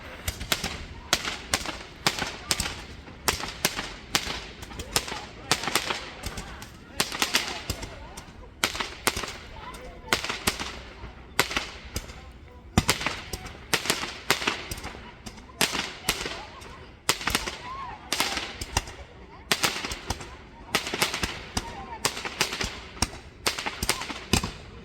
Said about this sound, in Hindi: और ये रही साउथ कोरिया में दिवाली की धमाका।